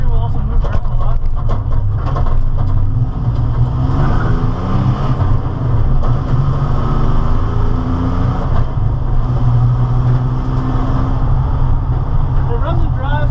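A rally Camaro runs and drives, its engine droning low and loud with rising and falling tones as it moves and shifts, while someone talks over it throughout.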